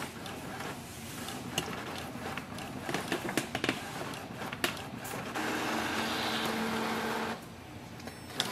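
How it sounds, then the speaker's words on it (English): An Epson ET2700 inkjet printer runs a nozzle check page, its mechanism whirring and clicking in an uneven run of short bursts, then a steadier motor hum toward the end, close and moderately loud. "So scroll down and click on the nozzle check and click print."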